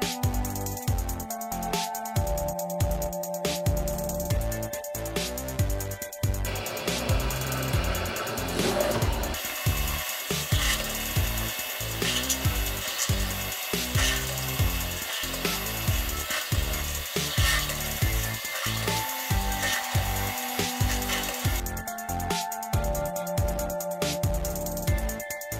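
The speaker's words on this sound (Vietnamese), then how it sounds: "chúng ta sẽ sử dụng muỗng khoan 7 ly để khoan lại các lỗ vừa rồi." A power drill with a 7 mm bit whines steadily through PVC pipe, with a strained grinding tone and a few brief pauses and shifts in pitch.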